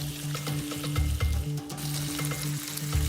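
Food sizzles and crackles in hot oil and fat in a home kitchen pan during a cooking challenge, loud and steady, with rhythmic stirring scrapes and bursts of spitting throughout.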